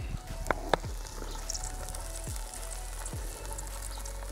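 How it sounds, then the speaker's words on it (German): Three marrow bones frying in oil in a Dutch oven, a soft steady sizzle with a couple of sharp knocks as the bones drop in, close and fairly quiet. "Die schmeißen wir jetzt hier hinein. Die werden schön angebraten."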